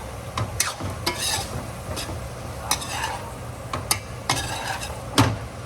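Teriyaki chicken sizzles in a pan on high heat while being stirred, a close crackling hiss punctuated by repeated sharp scrapes and clinks of the utensil against the pan, no talking.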